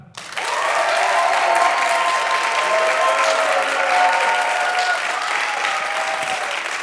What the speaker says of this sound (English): Would you please clap?